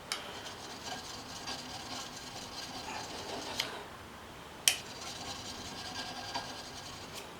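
Homemade metal scraper rubbed on a sharpening stone, giving a faint, steady scraping with occasional sharp clicks, quiet and without talk.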